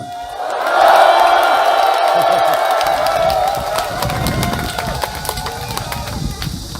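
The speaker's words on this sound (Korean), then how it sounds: "박수 치시고 함성 한번 더 올리십시오" A large outdoor crowd at a Catholic priests' prayer rally claps and cheers, with a loud surge of whoops and shouts that eases into sustained applause and scattered yells.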